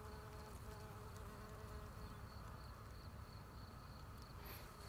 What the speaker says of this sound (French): il y a des bourdons partout, là. Ces petits bourdons avec le cul roux.